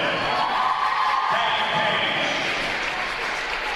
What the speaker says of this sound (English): there's Paige McLaughlin coming out on the mat to get a well-deserved round of applause